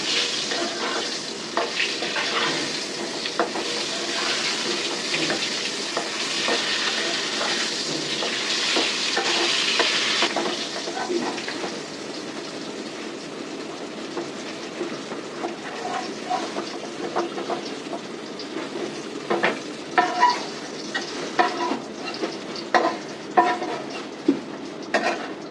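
Pigeon meat curry frying uncovered in an open pan while being stirred, a continuous loud sizzle with scraping and clinking of the spoon against the pan, the stirring strokes growing sharper toward the end.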